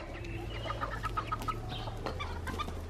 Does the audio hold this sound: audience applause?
no